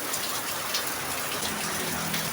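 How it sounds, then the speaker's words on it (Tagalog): Heavy rain pours down steadily at home in Lopez, Quezon on an evening in late October, a dense, even hiss of drops on surfaces that holds at constant loudness throughout, with no voices. "Ang lakas pa rin ng ulan ngayon oh."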